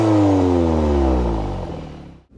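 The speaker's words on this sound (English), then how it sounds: "while we also have the twin tailpipes, which sound like this in dynamic mode." An Audi TT 2.0 TFSI S line roadster with twin tailpipes in dynamic mode revs hard, a loud, throaty petrol engine climbing then falling away with a brief crackle at the end, no voices.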